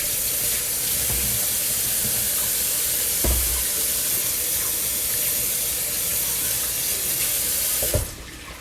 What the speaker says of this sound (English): Gotta wash my hands now.